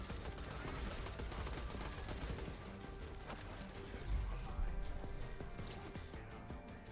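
Dense, continuous gunfire in the Borderlands shooter with the Avenger weapon, rapid crackling shots layered over a busy wash of combat noise throughout, with a heavier thump partway through.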